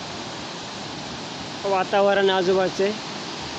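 Bhivtas waterfall near Surgana in the monsoon, a constant broad rushing roar of falling water heard at some distance, with someone talking briefly over it.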